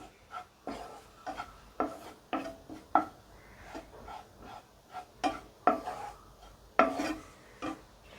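Nuts being stirred while roasting in ghee in a pan, a spoon or spatula scraping and rasping against the metal in repeated strokes, close and fairly quiet with no talking.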